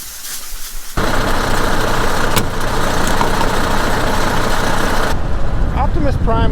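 A large combine harvester engine idles with a loud, steady broadband roar and low rumble that starts abruptly and holds evenly, then drops away near the end.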